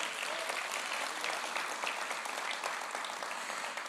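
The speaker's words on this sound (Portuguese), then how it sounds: "Você pode aplaudir ao Senhor por isso?" An audience at a church service applauding, a dense continuous wash of clapping at steady strength that fills the whole moment, heard alone without speech.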